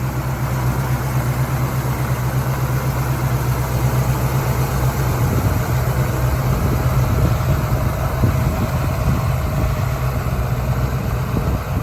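An AMC 390 V8 engine in an AMC AMX idles steadily and loudly nearby at a car show, a continuous deep rumble with no changes in pitch and no voices.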